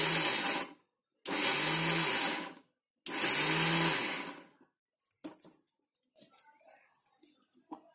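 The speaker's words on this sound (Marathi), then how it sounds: "आता तुम्हाला मिक्सर चालू करून दाखवते" A kitchen mixer grinder grinds peanuts into dry powder in three short, loud, whirring bursts with brief pauses between, followed by quieter rattling and clattering of the jar.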